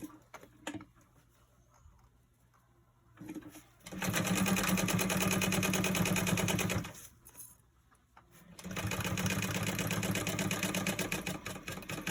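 Sewing machine stitching the side seams of a crossbody bag panel, two long runs of rapid close mechanical whirring, each several seconds, separated by quiet pauses with a few light clicks.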